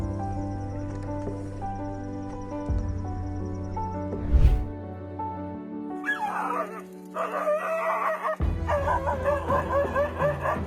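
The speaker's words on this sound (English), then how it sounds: "when the dog jolts awake and screams in fear" A dog yelps and whimpers in fright as a jaguar attacks it on a porch, its high cries rising in bursts over a steady background hum, close and fairly loud.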